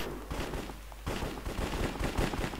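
Rapid bursts of video-game gunfire from a Hypixel Cops and Crims match fill the clip, dense repeated shots with a steady background din and no talking.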